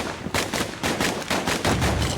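Dual slinger pistols firing in the video game Bastion: a rapid, loud string of about eight sharp gunshot blasts in quick rhythmic succession, each with a short decaying tail.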